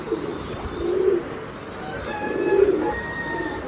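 Pigeons at a pigeon farm give two low, soft coos about a second and a half apart, heard close against a quiet background with faint chirps.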